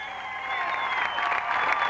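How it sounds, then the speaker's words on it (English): A crowd applauds at a speedway race-of-champions event at Columbus Motor Speedway, a dense, steady wash of clapping throughout with a sustained tonal line running underneath. "How about a big round of applause, Wally Dallenbach."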